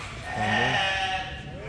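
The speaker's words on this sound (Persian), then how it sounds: "اینجا همش گوسفند ها" Sheep bleating at a sacrificial animal market in Istanbul, several wavering calls rising over a busy, noisy crowd background, with faint voices mixed in.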